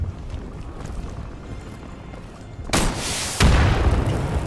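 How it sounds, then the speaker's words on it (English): RPG explosion in the video game Insurgency, a sudden loud boom followed by a second heavier blast a moment later over low ambient rumble. "That was an RPG."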